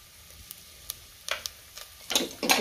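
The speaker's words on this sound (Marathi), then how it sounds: "त्यामध्ये हे खडे मसाले आणि मिरची घालते." Whole spices and chili dropped into hot ghee and oil, a faint tick or two, then a sudden sizzle that rises and spreads in two bright bursts near the end, close by, no voices.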